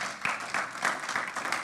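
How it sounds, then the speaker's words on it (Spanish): In a Christian community church, the congregation gives a brief round of applause to the Lord, a faint, fairly distant patter of many hands clapping with no speech over it. "Denle un aplauso al Señor porque Él es bueno."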